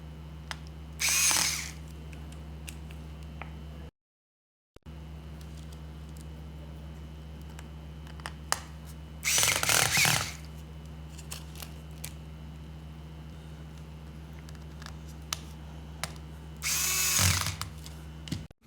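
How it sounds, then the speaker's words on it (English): Power screwdriver driving motherboard screws back into a Dell 3100 laptop: three short whirring bursts, each about a second long, separated by long stretches of quiet bench noise with a steady low hum. "Next, you can put the motherboard screws back in."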